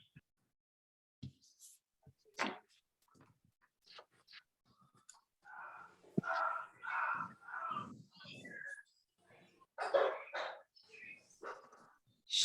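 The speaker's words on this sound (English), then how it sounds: "He hears the other dogs barking." A dog barks in a few bursts during an online meeting, reacting to other dogs barking somewhere nearby, with people's voices heard around the barks.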